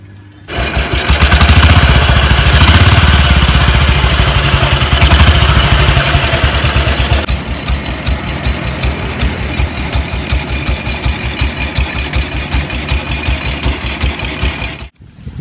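A war-surplus BSA M21 600cc side-valve motorcycle engine idles loud and close with a steady, throbbing thump, revving a little higher at first before settling into a lower, even idle, then cutting off.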